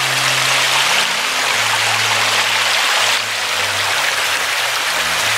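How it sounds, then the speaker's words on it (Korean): A mountain valley stream flows steadily nearby in Seongju County, South Korea, a dense, continuous rushing and splashing wash with no voices. "물소리 감상하시죠."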